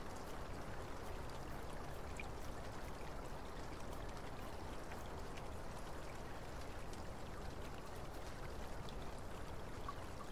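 Steady rain in the Black Mirror II adventure game, a constant even hiss of falling water with faint patter, unbroken and moderately soft throughout with no voices.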